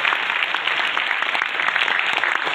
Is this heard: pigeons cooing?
no